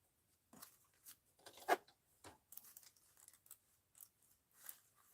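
Scissors snip through crunchy, stiff paper in a series of quiet, irregular crisp cuts and crinkles, close up, with no talk.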